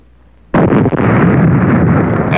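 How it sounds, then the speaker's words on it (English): A charge detonates in a fuel explosion suppression test on a military vehicle, watched from outside: one sudden, very loud blast followed by a sustained roaring burn of fuel that stays loud to the end. "As the charge detonates, the fuel burns explosively, but only on the outside."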